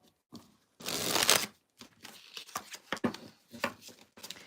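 Tarot cards are shuffled close by, with one long riffling burst followed by a string of quicker papery flicks and taps, and no voice over them.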